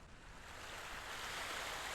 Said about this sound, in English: the sounds for the waves are actually, it's a audio cue component moving along a spline